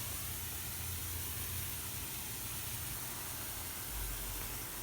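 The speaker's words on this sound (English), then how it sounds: "when I open it up, it just sprays out" A squirter nozzle sprays a mix of fertilizer and water in a steady, loud, continuous hiss with no break, close to the listener.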